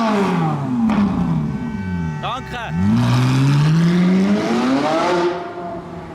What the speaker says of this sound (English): I love the sound of this Ferrari V8.